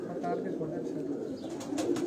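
Low cooing from pigeons kept in a Karachi rooftop loft rolls along steadily and close by, with people talking over the birds.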